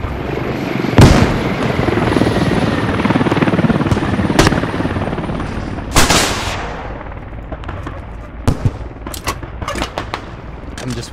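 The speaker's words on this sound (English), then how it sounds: "Wasting their ammo shooting their helicopter." Helicopter in the military shooter game Squad, a loud constant rotor roar throughout, overlaid with scattered sharp gunshot cracks and bursts of fire.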